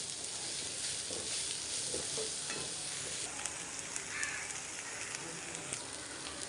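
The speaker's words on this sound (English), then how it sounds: "Saute this for some time, around 2 to 3 minutes." Onion sautéing in a pan for spring onion subzi, a steady broadband sizzle with soft stirring scrapes running throughout, moderately loud and close with no voices.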